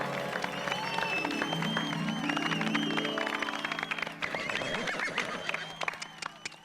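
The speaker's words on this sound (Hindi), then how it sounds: "पूरे सम्मान के साथ जोरदार तालियां इनके लिए" Loud audience applause for guests at a Children's Day celebration in the Gokuldham society of a Hindi TV sitcom, clapping mixed with playful musical sound effects and sliding tones, the crowd noise continuing throughout.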